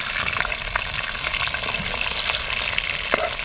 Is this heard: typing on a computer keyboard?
no